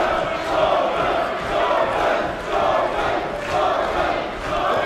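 A dense crowd of wrestling fans at a six-man tag match roars and chants in swelling waves, loud and continuous with no single voice standing out.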